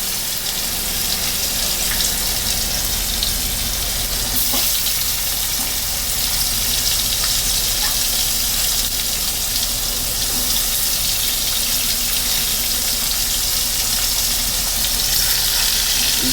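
Chopped tomatoes hit hot oil in a pan of spicy boal fish egg curry, giving a steady, loud, broadband sizzle that holds evenly for the whole stretch with no voices.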